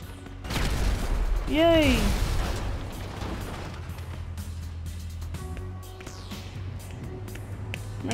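Grenade launcher rounds and explosions in GTA 5 go off as a loud burst of blasts and pops with a whistling tone early on, then a steady rumbling game din, with excited talking and a cheer over it.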